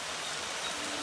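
Rain falling outdoors, a steady close hiss of drops striking surfaces with no pauses and no voices over it.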